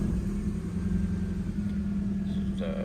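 A Chevrolet Tracker engine running at a steady idle, with a constant low rumble close by and a brief higher sound near the end.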